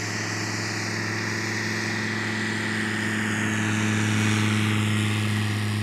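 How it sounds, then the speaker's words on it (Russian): An ultralight propeller aircraft in France drones steadily and loudly throughout, with a continuous engine hum and buzzing harmonics that swell slightly toward the end, heard alone without voices. "Ультралайт во Франции."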